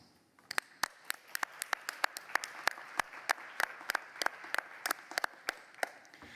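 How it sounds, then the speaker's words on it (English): An audience at a climate and meteorology conference session applauds, beginning with sparse, distinct claps that quickly thicken into steady, moderately loud clapping from many hands. "So let's welcome them with an applause."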